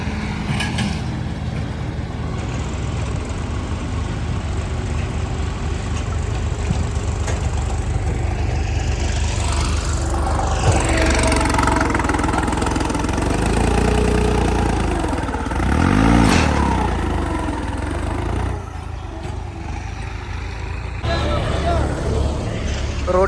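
A New Holland 3630 tractor engine runs steadily throughout, a continuous low mechanical rumble with rising and shifting tones midway, close and fairly loud, with some voices in the background.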